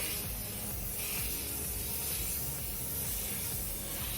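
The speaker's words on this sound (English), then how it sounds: "So I'm going to also spray paint the top pink." A steady, close hiss of pink spray paint from an aerosol can, continuous for several seconds with slight variations in pressure.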